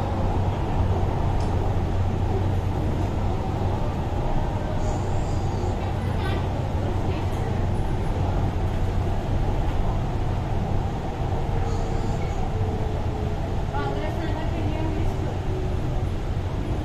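Nagpur Metro Orange Line train accelerating, heard from inside as a steady rumble and rising whine with faint squeals and clicks, continuous throughout, with a voice talking over it.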